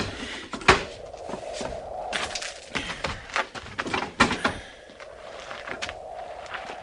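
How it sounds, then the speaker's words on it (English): A door is opened as a radio drama sound effect in a Western frontier fort scene, heard as a few soft wooden clicks and knocks, close and fairly quiet, with rustling movement and faint background noise. "Get the door."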